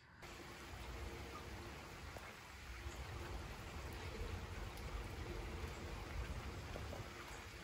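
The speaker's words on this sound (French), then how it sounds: "vous le voyez, il pleut actuellement" Rain mixed with sleet falls steadily during a November storm in Amboise, a soft even outdoor hiss of drops at moderate distance with no voices.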